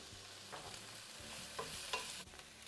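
Garlic cloves, ginger and cashew nuts cooking in a pan over medium heat, with a soft steady sizzle and occasional stirring scrapes, fairly quiet and with no talking.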